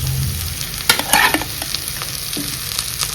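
Boiled pork pieces go into a pan of browned frying onions and are stirred, giving a steady sizzle with a few sharp scraping and clattering stirs near the start, close and fairly loud.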